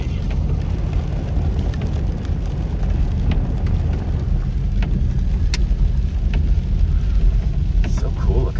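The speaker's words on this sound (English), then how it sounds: "I'm getting pelted with rain in here" Heavy rain pelts down steadily near a reservoir, a dense constant wash with faint low rumbling that may be thunder, and no talking.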